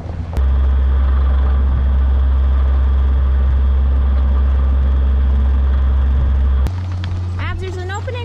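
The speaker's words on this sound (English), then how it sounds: "here comes Jim with the skid steer" A skid steer loader's engine runs loud and steady on a farm, a low diesel rumble holding for several seconds before dropping in pitch, with a voice speaking briefly near the end.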